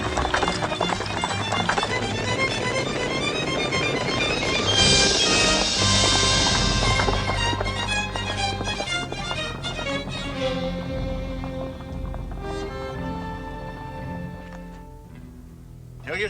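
Pack horses gallop in a rapid clip-clop of hooves, dragged along at speed through a busy mix of music and commotion, with the rhythm fading toward the end.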